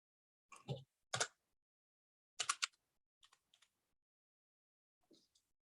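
Typing on a computer keyboard, a few sparse bursts of close, clear key clicks separated by silence, with no one talking.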